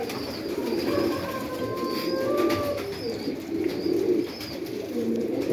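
Pigeons coo steadily inside a dovecote, the low throaty calls repeating close by over a constant background hum, with faint higher chirps from other birds.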